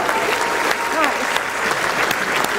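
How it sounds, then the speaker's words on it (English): Audience clapping after a keynote at the Asian Apprenticeship Awards 2018, a dense, steady round of applause from a large room, loud and close, with a voice briefly audible in the background. "Can you just give yourselves a round of applause just before we even start?"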